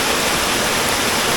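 A small waterfall cascading within a cave stream, a loud dense continuous rush of falling water filling the space evenly, with no voices.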